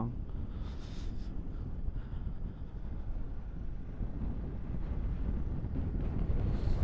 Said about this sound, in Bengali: হেভি হাওয়া দিচ্ছে।